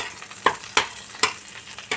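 Green chili, garlic, ginger and cinnamon fry gently over low heat in a pan, with a soft, continuous sizzle punctuated by four distinct scraping strokes of stirring.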